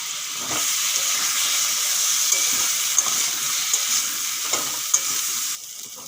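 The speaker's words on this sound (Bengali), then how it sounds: "কচুগুলো ভালো করে ভেজে নিয়েছি" Taro pieces frying in a pan with turmeric and salt give a steady, bright hissing sizzle close by, with occasional light stirring clicks and pops and no talking, easing off slightly at the end.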